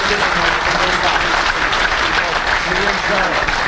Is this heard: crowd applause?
yes